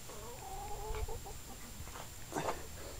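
Backyard chickens cluck and murmur near a hen house, a few soft drawn-out notes followed by a louder burst of clucking, over a constant low background hum.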